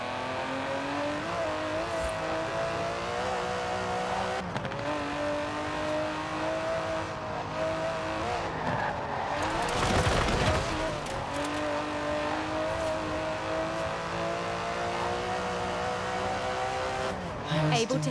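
Aston Martin DB11 with a 5.2-litre twin-turbo V12 in Forza Horizon 4, a sustained engine drone that rises and falls through revs with a brief surge mid-way and someone talking over it.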